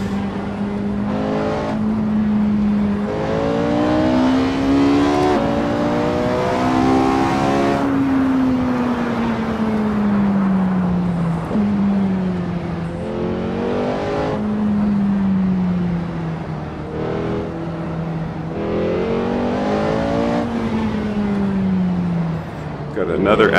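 A Porsche 918 in the racing game Assetto Corsa drives a free-roam canyon road, its engine note rising and falling through repeated gear changes in a steady loud drone with a faint voice underneath.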